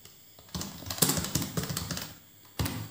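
Rapid typing on a computer keyboard, with bursts of close, crisp key clicks separated by brief pauses and a final short flurry at the end.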